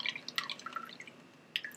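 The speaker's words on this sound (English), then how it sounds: "Just squeezes all the juice out of the lemon." Lemon juice squeezed into a glass jar with a kitchen squeezing gadget, producing a quick run of close, light drips and trickles, pausing briefly before a few more drops.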